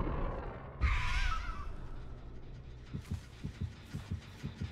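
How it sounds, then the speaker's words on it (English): A low, muffled heartbeat thumps in a steady rhythm in the second half, following a brief whoosh of noise near the start, in the game Dead by Daylight. "We hear that heartbeat, prioritizing gens."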